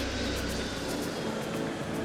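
Large airliner flying in low to land over the beach at St Maarten, a loud, continuous broadband engine roar that fills the whole moment without letup.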